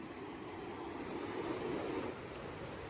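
Ocean waves wash onto the beach at Mandarmani, a continuous broad roar of surf with steady wind noise, close and fairly loud, with no voices.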